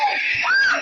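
Several people scream together in a brief, loud, high-pitched shriek from a played video, lasting under a second with a rising wail at the end.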